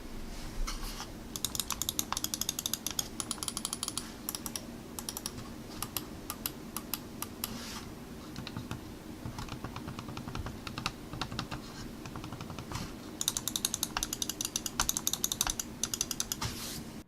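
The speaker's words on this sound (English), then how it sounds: "Here we're going to do a quick click test if you guys want to hear what the buttons sound like." Rapid mouse button clicks from a Corsair M65 RGB Elite gaming mouse, a dense run of sharp close-up clicks in bursts with short pauses, no talking.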